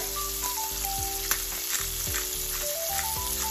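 Asparagus sizzling steadily in hot oil in a pan, a dense close frying hiss that continues without pause, with faint background music underneath.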